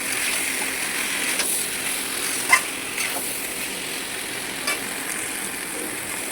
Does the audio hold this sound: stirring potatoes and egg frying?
yes